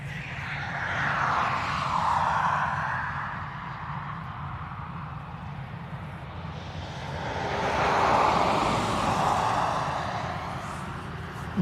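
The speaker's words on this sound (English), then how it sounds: "we have another ATR which will be heading out to Exeter" An ATR turboprop airliner departs Dublin Airport, its engine drone rising and fading in two broad swells across the span, steady and fairly loud with no talking.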